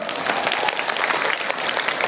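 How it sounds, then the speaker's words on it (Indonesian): Crowd at a religious study gathering clapping together, a dense steady burst of applause with no talk over it. "tepuk tangan dulu dong"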